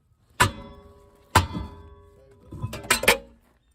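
Metallic clanks ring out as a hammer strikes brake parts on a 2014 Ford Transit Connect: two single strikes, then a quick cluster of three, each with a short metallic ring.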